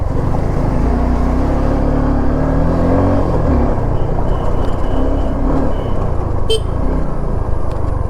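Suzuki V-Strom motorcycle ridden off-road, a loud, steady engine drone with heavy low rumble and wind buffeting that holds throughout, no voices.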